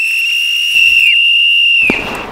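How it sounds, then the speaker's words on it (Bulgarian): A single long, steady whistle blast signals the start of a fishing contest. It is loud and close, with a brief sharp pop and noise near its end before it cuts off. "Е, сега свирката."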